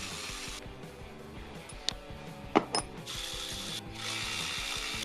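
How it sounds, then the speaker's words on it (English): Ratchet wrench clicking as bolts come off a Jeep Wrangler serpentine belt tensioner, close and steady mechanical pawl clicks with a few sharper knocks partway through, no talking. "we're gonna unbolt it. 15 millimeter for the upper larger bolts"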